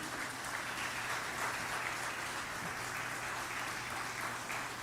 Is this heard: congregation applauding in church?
yes